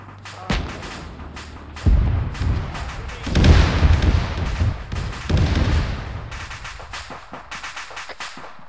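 Arma 3 video game artillery fires high-explosive rounds, heavy booms and rumbling blasts rolling through a few seconds, followed by scattered sharper gunfire cracks.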